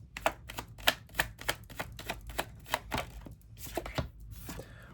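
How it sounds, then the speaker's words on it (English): Tarot cards shuffled by hand, a run of crisp, rapid riffling snaps and flicks, close and fairly loud, with no talking. "I do want to pull another tarot card."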